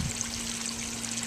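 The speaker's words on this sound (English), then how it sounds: "the water comes in from the big tank right there" Steady water flowing from a big tank into an aquaponics barrel through a partly opened shutoff valve, a continuous close rushing trickle with no voices.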